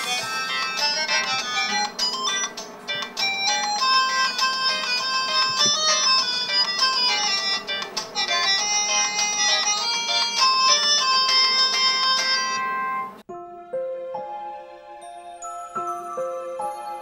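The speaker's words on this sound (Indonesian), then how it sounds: "Dina, Non, ana telepon deh Non Sarah" A telephone rings with a bright, tinkling melodic tone that repeats for several seconds, then breaks off and gives way to a sparser electronic jingle.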